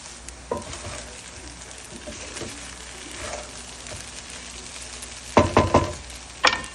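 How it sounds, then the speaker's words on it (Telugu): Sago khichdi being stirred in a pan after ground sesame-peanut powder is mixed in, a steady soft sizzle with scraping stir strokes and a few louder clattering bursts of spoon against pan near the end. "ముందుగా పొడి చేసి పెట్టుకున్న నువ్వుల పల్లీల మిక్చర్ని కూడా ఇందులో వేసి ఈ మిశ్రమాన్ని అంతా మంచిగా కలుపుతున్నాను"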